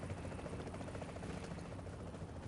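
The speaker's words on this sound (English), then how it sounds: "Oh, there's a helicopter here." Helicopter in the video game The Division, a steady loud rotor drone filling the whole moment without pause, no voices over it.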